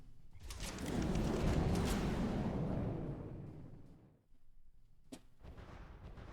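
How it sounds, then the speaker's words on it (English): A cram cannon fires in a video game with a big booming blast that swells, rolls on and slowly decays over several seconds, followed by a sharp second crack and faint rumbling. "We're just here to test the cram cannon anyway, right?"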